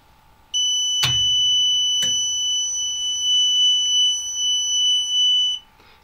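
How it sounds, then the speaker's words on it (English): A Sol-Ark solar inverter, being reactivated during a system reboot, holds a steady electronic beep tone for about five seconds, with a couple of clicks near the start, clear and close in a quiet room. "This particular model beeps like that when it's reactivated."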